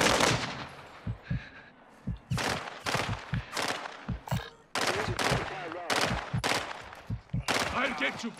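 Repeated bursts of automatic machine gun fire from a Call of Duty match ring out loud and close, in rapid volleys with short gaps across the whole stretch, mixed with other game gunfire.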